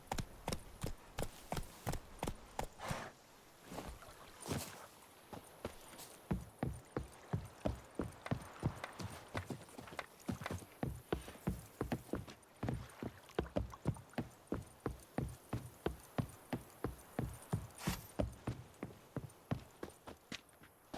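Roach, a horse in a video game, walks with a steady, regular clip-clop of hooves on a hard surface, close and loud throughout, with no voices.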